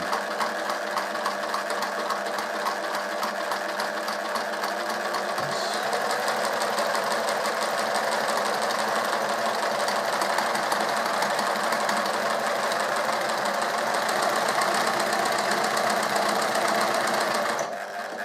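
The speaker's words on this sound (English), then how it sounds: "allowing the sewing machine to take the fabric through the machine." A sewing machine stitching fabric runs continuously with a fast, even mechanical rattle and hum, stopping abruptly near the end.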